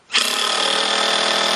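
A Kobalt 24V brushless 1/4-inch impact driver starts abruptly and runs continuously at high speed, a loud, close, steady buzzing whine with no talk over it.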